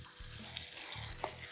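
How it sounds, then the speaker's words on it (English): Salisbury steak patties cooking in a skillet on the stove, a quiet steady sizzle with faint low clatter and a brief tap near the end, no talk. "put these on there and also put them on this back on the stove to have them cook simultaneously"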